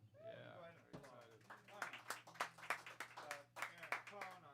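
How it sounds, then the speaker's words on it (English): Audience applause for a jazz quartet in a live club setting, a burst of clapping that swells and continues in uneven waves while someone speaks over it. "Go ahead and very applaud."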